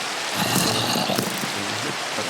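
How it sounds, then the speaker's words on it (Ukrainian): Rain falling in a modded survival video game, a steady dense hiss of drops pattering on surfaces, fairly loud and even throughout the short stretch, with no talking over it. "О, ще й дощ."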